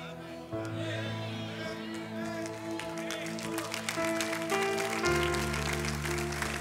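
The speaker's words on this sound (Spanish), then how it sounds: "Pero ese aplauso es para Jesús" Congregation applause during a church service, a busy patter of clapping that builds under sustained keyboard or organ chords and grows louder toward the end.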